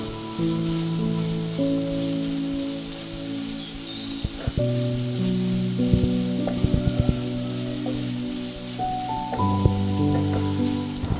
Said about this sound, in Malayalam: പടിയിലൊക്കെ പിടിക്കാണ്ട് ലോ ഫ്ലെയിമിലിട്ട് വേണം നമ്മളത് വാട്ടിയെടുക്കാൻ വേണ്ടി